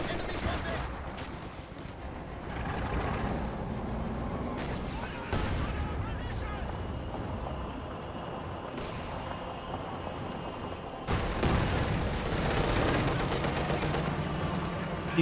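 Battle sounds in the real-time strategy game Company of Heroes 2: dense bursts of rifle and machine-gun fire with heavy thuds and explosions, continuous and layered, with a commentator talking over it.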